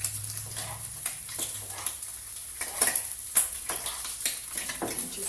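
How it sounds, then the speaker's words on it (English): Onions, tomatoes and bacon fry in a pan while a utensil stirs them, giving a steady soft sizzle with repeated scraping and clinking strokes, close and moderately quiet. "just stir our saucepan around a bit, our fry pan, our onions and our tomatoes. Bacon that's cooking off very nicely."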